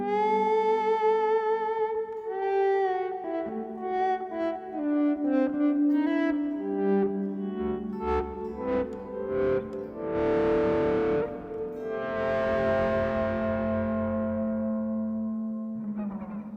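Electric guitar through a TC Electronic Zeus Drive on light overdrive and an Arena reverb, sustained notes and chords ringing out with long tails, played alone for several seconds.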